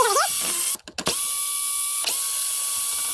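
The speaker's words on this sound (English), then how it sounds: "Now we're just going to use a T25 Torx. I like to use one of these little electric screw guns." A small electric screw gun fitted with a T25 Torx bit, used on a BMW K1200LT motorcycle fairing, gives short whirring, ratcheting runs, up close and alone, with brief pauses between bursts.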